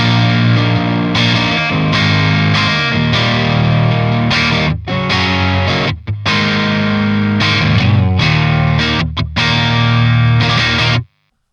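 Heavily distorted electric guitar on the neck pickup chugs thick, warm chords, close and loud, with brief stops between phrases and a sudden cut at the end.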